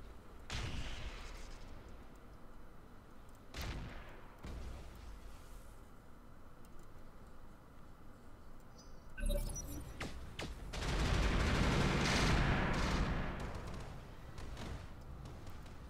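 Bursts of gunfire in the tactical shooter Roguepoint, a few scattered shots early on and a louder, denser volley near the end, with no talk over them.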